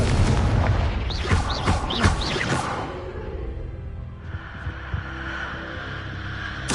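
Confringo fire spell in Hogwarts Legacy bursting with a booming, whooshing blast, followed by a lower rumbling hum and game ambience, with no talk over it.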